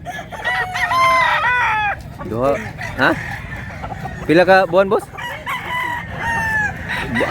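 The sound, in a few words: rooster crowing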